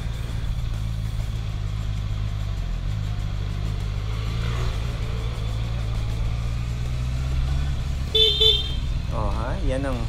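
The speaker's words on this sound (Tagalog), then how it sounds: "yan ang first busina ko using this CB" A Honda CB650R motorcycle engine idles with a steady low drone, then the horn gives a brief beep near the end and a voice follows.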